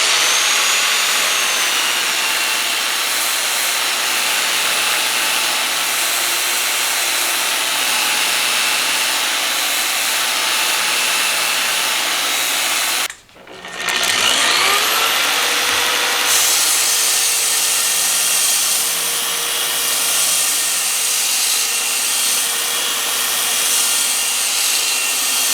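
A Vevor belt sander fitted with a belt sander adapter grinds steadily and loudly with firm pressure, a continuous abrasive whine that drops out briefly midway before resuming with the same rough, sustained texture.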